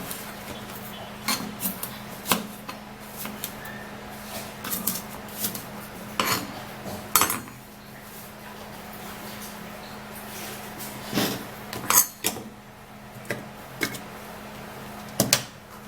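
Knife slicing through half an apple on a hard surface, with a series of sharp clicks and taps of the blade against the board and dish clatter spread irregularly through, close and fairly quiet.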